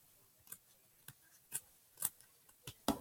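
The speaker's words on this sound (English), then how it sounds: "I'm going to cut around this" Scissors snip through pink fabric while cutting out a small rectangle for a plush, giving about seven short, crisp, close cuts in an uneven rhythm with no talk.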